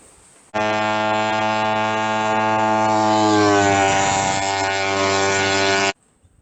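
A BSA Bantam race motorcycle with a Walsh engine holds a steady, loud, high-pitched two-stroke drone for about five seconds, the pitch rising slightly as it runs on a high-speed plug and timing run, with no talk.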